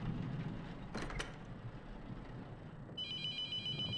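A telephone in a haunted-morgue horror video game starts ringing near the end, a bright electronic trill entering over a low ambient rumble after a couple of soft thuds.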